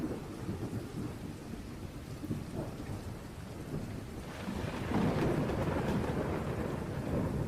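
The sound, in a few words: rain drumming with thunder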